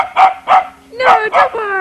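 A pet dog barks four times in quick, loud, nearby yaps, on an outdoor patio at a home, with short pauses between each bark.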